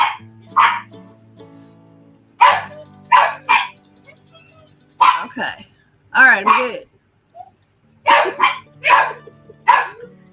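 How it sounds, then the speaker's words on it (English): Dogs bark in sharp clusters of several yaps, fairly close and loud, with a person speaking briefly between the barks. "Dogs, quit barking."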